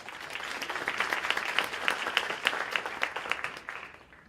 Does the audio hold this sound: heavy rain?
no